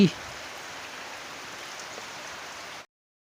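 Steady hiss of rain falling, an even wash of noise that continues unbroken and then cuts off abruptly.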